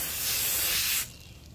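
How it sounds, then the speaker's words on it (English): One steady hiss of tire dressing sprayed from a can onto an applicator pad, loud and close, lasting about a second before cutting off to quiet room tone. "we're just going to spray that right on."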